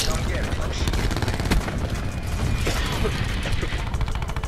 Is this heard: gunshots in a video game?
yes